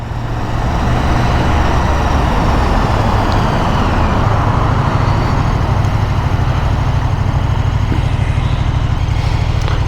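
A 2024 KTM 1390 Super Duke R on the road: a steady, loud engine drone blends with heavy wind rush throughout, recorded close on the moving bike with no talk.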